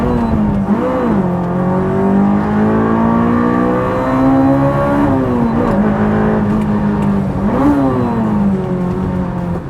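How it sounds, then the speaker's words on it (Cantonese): A J's Racing Honda S2000 on a mountain road revs hard and loud, its engine note rising and falling in repeated surges over about ten seconds, close and dominant with no talking. "我諗成個大帽山都聽到呢架車"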